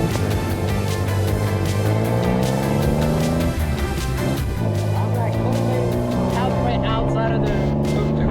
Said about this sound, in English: we are going there with a tuk-tuk